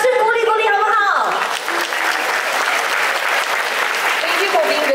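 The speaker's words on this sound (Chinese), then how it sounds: "给你们掌声鼓励鼓励，好不好" A packed concert-hall audience at the NUS Chinese Orchestra's Huayi Chinese Festival of Arts 2023 performance breaks into loud, sustained applause. A voice is heard briefly over the opening, and the clapping continues as a dense, steady roar.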